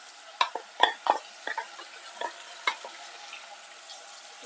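Grated tomatoes sizzle in a hot pan while a utensil stirs them, giving a series of sharp scraping and spattering bursts at an uneven pace over a quiet, low sizzle.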